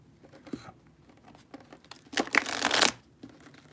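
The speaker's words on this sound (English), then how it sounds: "Giving it a real good shuffle." A vampire-themed tarot deck being shuffled, a few soft riffles and taps building to a louder, crisp shuffle burst before fading to quiet handling.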